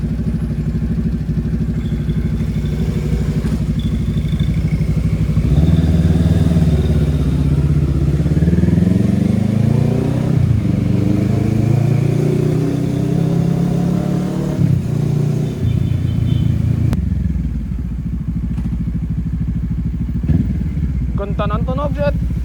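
A Kawasaki Z650 with an aftermarket exhaust pipe idles and revs loudly and steadily for a long stretch, its deep, bassy note rising and falling in pitch.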